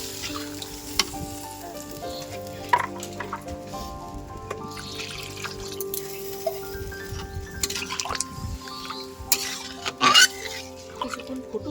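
Water goes into a pan of well-sautéed potatoes for a katla fish curry, producing a sizzling, bubbling hiss with a sharper splashy burst near the end and soft music beneath.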